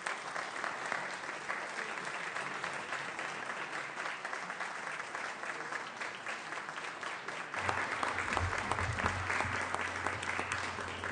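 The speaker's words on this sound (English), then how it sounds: "let's celebrate an incredible woman by a great round of applause" A Senate chamber audience claps for Ms. Ledbetter, dense sustained applause that swells louder partway through and continues steadily to the end.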